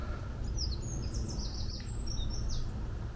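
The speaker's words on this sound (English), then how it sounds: "just listen to that beautiful bird song." Small songbird singing a quick series of high, bright chirps and trills over a low, steady background rumble outdoors.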